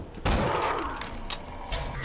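Gunfire from a slow-firing gun in Borderlands 2: a heavy broadband shot at about a quarter second rings through most of the clip, with a second, weaker shot near the end, both loud and close.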